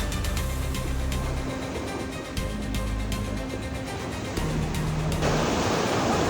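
Sea waves wash steadily as a continuous broadband roar of surf and churning water, loud and unbroken throughout, with a faint engine-like hum underneath.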